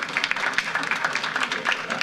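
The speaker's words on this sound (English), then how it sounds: "So let's give Glen Oaks High a round of applause." Audience applause for Glen Oaks High at a school board meeting, a brief, steady wash of many hands clapping at moderate volume.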